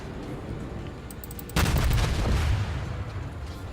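Warship guns firing armor-piercing shells in World of Warships, a sudden heavy salvo cutting through a steady engine and sea rumble, with a booming roar that lingers briefly and fades into the background hum.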